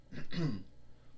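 A single short throat clearing from a man, faint and close, over quiet background.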